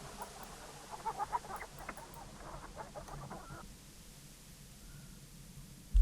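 Chickens cluck in short bursts in the King's Quest III remake, faint and intermittent over a low ambient game background, fading out toward the end.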